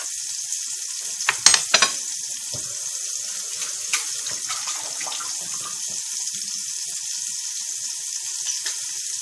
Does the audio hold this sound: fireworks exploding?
no